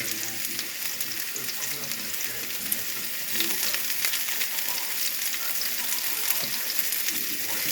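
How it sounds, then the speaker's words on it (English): Food cooking in a pan gives a steady close sizzle, with occasional scraping as it is stirred around until tender. "And we're just going to stir these around and cook them until they're tender."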